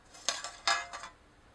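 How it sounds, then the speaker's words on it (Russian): A few light metallic clinks and taps as a thin metal plate is set into a holder for a soil moisture analyzer, close and quiet. "Возьмем держатель и установим в него металлическую тарелку."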